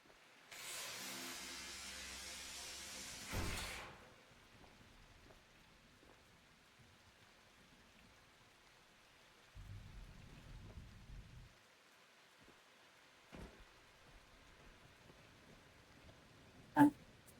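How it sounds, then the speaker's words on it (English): Rain falling in The Last Caretaker video game, heard faintly as a soft steady patter beside a vent, with a louder burst of noise at the start and a few brief knocks later. "You could hear the rain. Even in the vent."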